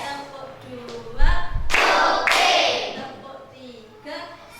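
Children in a classroom doing a rhythmic clapping game, with a thud and a couple of sharp group claps midway, surrounded by a teacher's voice and children's chatter.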